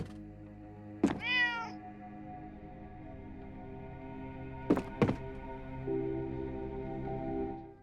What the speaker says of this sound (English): inside the room you can find a cat trying to get hold of a chicken